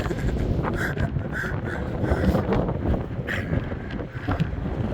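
Strong wind sweeps along Blackpool promenade, rumbling and roaring against the microphone in an unbroken close wash, with faint higher tones of distant noise drifting through.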